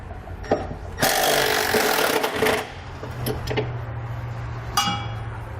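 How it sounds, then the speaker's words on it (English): A 10mm socket on a power tool spins out exhaust hanger bolts on a 2017 Ford in one loud whirring burst of about a second and a half, followed by scattered metallic clinks and ticks. "the bolts are going to be a 10mm, so we're going to use a 10mm socket to pull them out"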